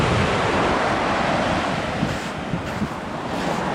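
Steady, loud wind buffeting the microphone on a beach in Calella, Spain, with surf rolling underneath and a few gusty bumps, no voices.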